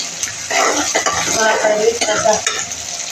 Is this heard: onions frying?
yes